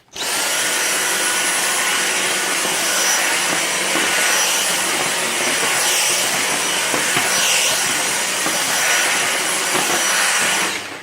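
A Dyson V6 Motorhead cordless vacuum runs continuously and loudly, its steady high-pitched whine and airflow roar held at a constant level as it sucks spilled coffee grounds off a towel.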